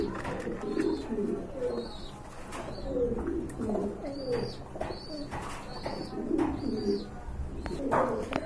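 Rajgolla pigeons coo repeatedly in soft, rolling bursts throughout at a pigeon sale, with a few chirps and light rustling in the background.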